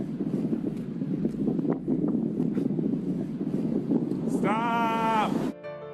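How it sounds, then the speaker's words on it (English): Steady wind roars outdoors near a boat, a loud constant broadband rush through most of the stretch with faint voices underneath, cut by a brief whining tonal burst near the end. "We're fighting this wind for about an hour."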